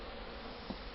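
Honey bees buzz in a dense, continuous drone during a wild nest honey harvest, loud and close throughout the short moment.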